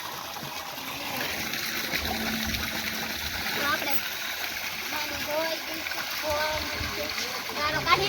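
Well water gushes steadily out of a pipe, a continuous splashing flow close by, while people talk over it.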